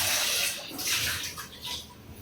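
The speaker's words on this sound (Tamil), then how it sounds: "ஒரு பாத்திரத்தை வாஷ் பண்ணிட்டு வச்சுக்கணும்" Running water splashing as a cooking pot is washed in a kitchen, a steady close hiss and rush of water for a couple of seconds with no talking.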